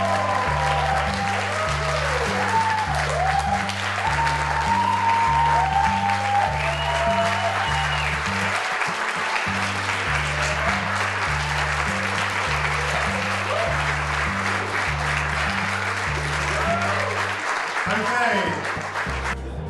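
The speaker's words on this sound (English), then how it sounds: "give them a massive round of applause" An audience gives a big round of applause at a world championship closing, sustained clapping heard over loud, pulsing music with a steady low beat.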